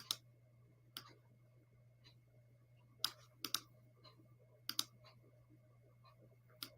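Light, quiet keystrokes on a computer keyboard come as sparse isolated clicks against a faint steady hum, with no talking.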